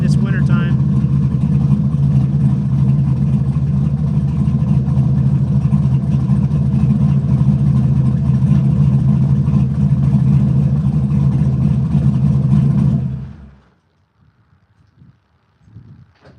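An LS-swapped AMC AMX running E85 with a GT45 turbo roars loudly and steadily near the microphone for about thirteen seconds, then cuts off abruptly into near silence with faint scattered sounds.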